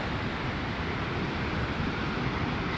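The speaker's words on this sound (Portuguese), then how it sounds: "E o mar não tá muito agitado." Sea at Foz do Douro near the lighthouse, a calm surf heard as a steady, broadband wash with no distinct breaking crashes, mixed with some wind rumble and no talking.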